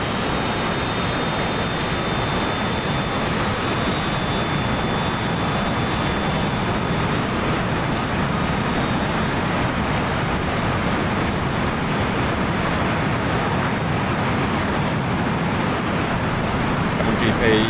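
Aircraft engine in the DCS flight simulator, a steady, loud broadband roar with a constant drone throughout, with no breaks or pauses.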